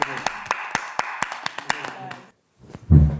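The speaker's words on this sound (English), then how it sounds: "One round of applause for Grace." A small group claps in a brief round of applause, with sharp, spaced individual claps that thin out and stop, followed by a voice speaking.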